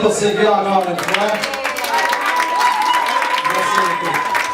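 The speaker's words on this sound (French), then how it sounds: "On applaudit pour Sylvie encore une fois." Guests at a wedding reception in a Montreal hotel clap briskly while a voice speaks over the applause and others chatter nearby.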